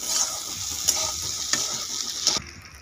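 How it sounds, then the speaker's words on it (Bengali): Eggplant and pre-fried potatoes are tossed together in plenty of hot oil, a close, constant sizzle marked by three or four crisp spatula scrapes before the frying suddenly quiets near the end. "আগে থেকে ভেজে রাখা আলুগুলো দিয়ে দিচ্ছি, এখন একসঙ্গে মিক্স করে ভেজে নেবো"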